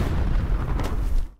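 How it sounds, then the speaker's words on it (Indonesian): A short, muffled landmine explosion rumbles with a deep boom and crackling debris, then cuts off. "Namun Selma tanpa sengaja menginjak ranjau dan terjadilah ledakan kecil."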